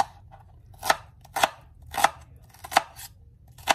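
A dull kitchen knife chops vegetables such as tomato and onion on a board for a homemade alamang dish, giving about six sharp, evenly spaced cuts, close and clear, with no talking.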